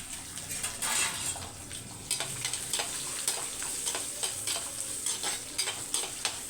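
Small onions, garlic cloves, a green chili and curry leaves sauté in a pan with a quiet sizzle. A spoon scrapes and taps against the metal in a rhythmic stirring pattern.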